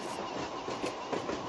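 Train rolling along in the Train Simulator Bangladesh game, a steady dense rumble with faint rhythmic clatter of wheels, continuous and moderately loud without any voices.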